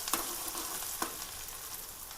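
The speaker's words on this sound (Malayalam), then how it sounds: "അല്പം മുളക് പൊടി കൂടിയിട്ട് താളിച്ചിട്ട് കായലേക്ക് ഇട്ട് കൊടുക്കാം" Green chili, garlic and chili powder tempering in hot oil in a pan for a prawn dish, a steady close hiss of frying with a couple of soft stirring clicks, no voices.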